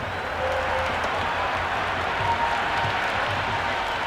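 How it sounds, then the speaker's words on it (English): A stadium crowd in the Cricket 26 video game applauds and cheers a boundary four in a Chennai versus Punjab match, a steady dense roar with clapping throughout. "It's almost palpable, the excitement emanating from this crowd at the moment."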